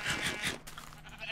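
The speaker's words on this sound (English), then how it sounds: "Give me this wool, sheep!" Several short bleats from a sheep in Minecraft, three quick nasal calls in a row followed by a softer one, close and clear with no talking.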